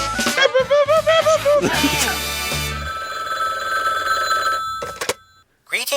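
An old-style telephone bell rings in bright metallic bursts after voices talk over a rising tone, then stops abruptly with a brief silence and a short clatter at the end.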